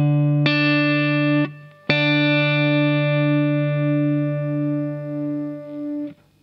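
Electric guitar overdub sounding a D octave: two clean sustained plucked notes, the second ringing out with slight chorus shimmer for several seconds before stopping, played alone.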